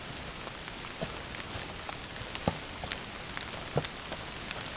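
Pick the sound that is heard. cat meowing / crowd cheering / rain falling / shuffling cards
rain falling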